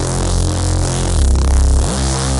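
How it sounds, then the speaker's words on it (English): A loud, heavy bass sound throbs with dense low rumble and a buzzy, distorted texture, dipping deeper partway through before rising again, with no speech. "That's the sound of bass."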